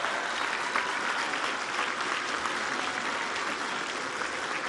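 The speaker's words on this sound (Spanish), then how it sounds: "Vamos a enviarle un aplauso a López Obrador de aquí hasta Palenque" Dense, steady applause from a sizable crowd at a public event in Puebla, sustained at an even level throughout with no voices standing out.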